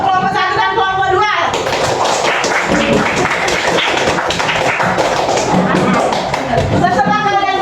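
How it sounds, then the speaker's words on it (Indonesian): Students in a classroom clapping for two student groups, a dense burst of many hands clapping with loud taps and thumps, joined by children's voices, between stretches of a teacher speaking. "Ibu beri tepuk tangan dulu untuk kelompok 1 dan kelompok 2"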